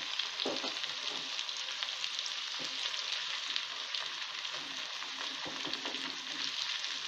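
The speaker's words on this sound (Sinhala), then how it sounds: "දැන් අපි ලූණු ටික බදිමු." Onions fry in hot oil for a kohila root seeni sambol, giving a steady, even sizzle and crackle throughout at moderate loudness, with a few faint scrapes and no talk.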